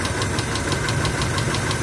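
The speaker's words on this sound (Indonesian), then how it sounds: "Ini suara mesin sudah hidup ya." A Daihatsu car engine runs steadily just after a timing belt repair, with a rapid, regular ticking over a constant low hum, close and continuous throughout.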